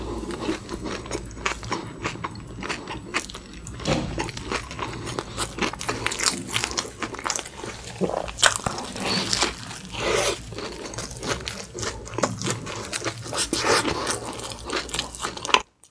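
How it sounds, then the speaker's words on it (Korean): Close-miked biting and chewing of McDonald's burgers (Honey Cream Cheese Shanghai, Big Mac, McSpicy Shanghai and Double Cheeseburger), with steady wet, crunchy bites and mastication throughout and no talking. "햄버거는 눈치 보지 말고 먹어야 돼."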